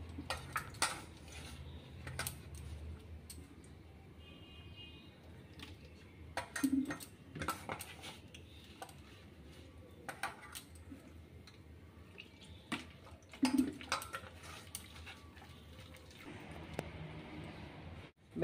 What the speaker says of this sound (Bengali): বেসনটা আমি ফেটে নিলাম।